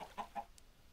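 Chickens on a Minecraft modpack chicken farm give two short clucks in quick succession, followed by a faint higher chirp, alone against low background hum.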